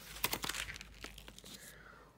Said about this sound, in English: Oh, it was you turning the page.